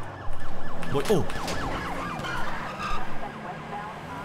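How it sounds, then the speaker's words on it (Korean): A police car siren in GTA V wails in rising and falling sweeps that sound fairly close, with short exclaimed speech over it. "제 눈에만 보이는 경찰차"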